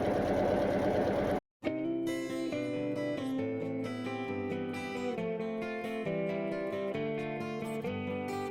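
Sewing machine chain piecing long quilt strips with straight seams, a steady close-up mechanical hum that stops briefly, then continues evenly for the rest of the clip.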